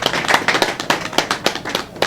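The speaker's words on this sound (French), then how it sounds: "Je voudrais que toute l'assistance les applaudisse." An audience at a SOMISEN company ceremony claps in a quick, fairly steady patter of separate hand claps, close and moderately loud, with no voices over it.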